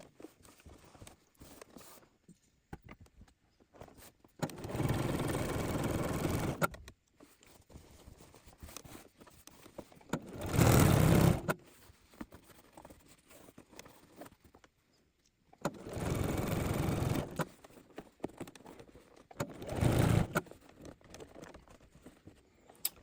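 A sewing machine understitches a coat lining in separate runs of a couple of seconds each, a loud whirring hum close by, with quieter handling sounds of cloth between the runs.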